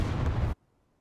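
A StuG tank shell bursts on impact in a war video game: a single loud, booming explosion lasting about half a second, then cutting abruptly to near silence.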